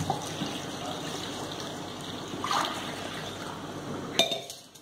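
Water pours from glasses into a pot of maize flour and buttermilk for makki ki rabri, a close splashing, gurgling stream that ends with a short clink.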